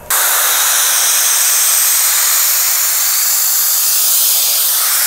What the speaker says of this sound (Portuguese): A gente aplicou um pouquinho do spray Auto Clean e aplicou o ar comprimido